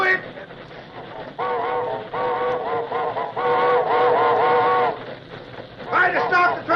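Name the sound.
train whistle blowing, radio drama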